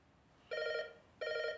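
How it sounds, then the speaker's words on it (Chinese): Two short electronic telephone rings with a bright, buzzy warble sound in a quiet room, separated by a brief pause. "您的电话是汪董打来的。"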